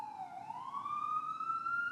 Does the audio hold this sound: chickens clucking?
no